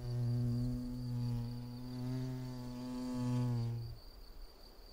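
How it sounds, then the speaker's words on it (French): A two-coloured mason bee buzzes close by with a steady, slightly wavering hum as it moves a snail shell for its nest, then falls silent near the end. "Cette osmie bicolore a fort à faire pour aménager son futur nid."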